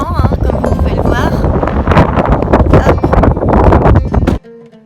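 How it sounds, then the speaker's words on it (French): Strong wind buffets the microphone in a loud, continuous roar in a seaside village in Morocco, with a voice speaking underneath, before cutting off abruptly. "il y a un petit peu de vent, hein, comme vous pouvez le voir."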